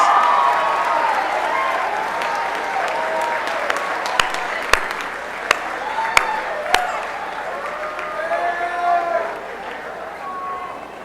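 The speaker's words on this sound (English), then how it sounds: "Students, give them a round of applause." Students clap for the senior class at a 2019 high school academic awards assembly, a broad wash of applause with a few sharp nearby claps and a voice speaking over it.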